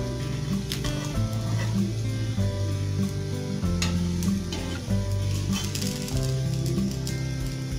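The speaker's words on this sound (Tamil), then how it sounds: "தோசை வேகுது." Ragi dosa cooking on a hot pan: a continuous close sizzle holding steady throughout, layered under loud background music.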